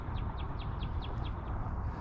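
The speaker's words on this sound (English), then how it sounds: "The one that trailed off there was the cardinal." A northern cardinal's song of repeated downward-slurred whistles, about nine in a steady series, fairly faint over a constant low outdoor rumble after rain.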